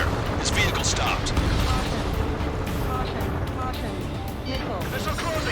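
Gunfire and explosive bursts from the aerial combat game Ace Combat 7: Skies Unknown, a dense continuous rumble of shots and blasts with radio chatter from voices over it.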